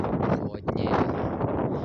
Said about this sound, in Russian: Также ветер здесь усилился. Прям такой холодный, минусовой.